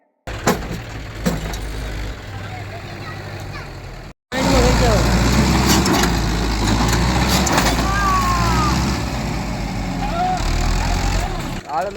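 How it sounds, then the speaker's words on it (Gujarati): Mahindra and John Deere tractor engines strain against each other in a tug-of-war, a loud continuous low diesel roar that cuts out briefly and then resumes stronger, with people talking over it. "બે ટ્રેક્ટર ખાડામાં ફસી ગયા છે"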